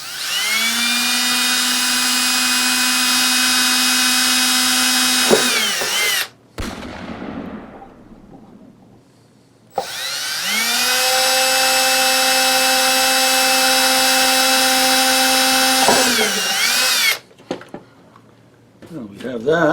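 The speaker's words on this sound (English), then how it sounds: "I'm going to run a 3/32 inch drill bit through each" A power drill running a 3/32 inch bit through wood for a marten box trap, two long loud whining bursts of several seconds each, each winding down into the crunch of the bit clearing the hole, with brief quiet between.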